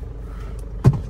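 A car idles with a low, steady rumble as it is driven inside, and a single short thump lands near the end.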